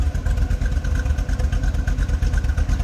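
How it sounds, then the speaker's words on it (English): A 1968 Chevrolet Corvette convertible idles with a low, loud, pulsing dual-exhaust rumble, steady and close, with no talking over it. "Dual exhaust again, no crazy obnoxious exhaust, just a nice little rumble coming out of that."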